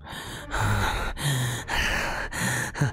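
A voice imitates a character's shaky, anxious breathing as though asleep during a tabletop dice game, with several ragged, close breaths in a row.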